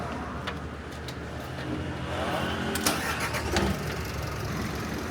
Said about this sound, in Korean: 시동 걸게요.